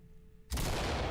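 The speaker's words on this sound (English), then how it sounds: "Readying flashbang." A flashbang grenade in the tactical shooter game Ready or Not goes off after a quiet moment, a sudden loud, broadband blast that holds as a roaring wash of noise to the end.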